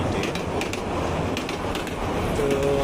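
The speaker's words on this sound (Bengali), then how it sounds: "নিচের দিকে গিয়ে ছবি তুলতেই আবারও ট্রেনের শব্দ" An intercity train rumbles past a rail bridge with a steady broadband roar and faint clicking, moderately distant, and a few birds are audible over it.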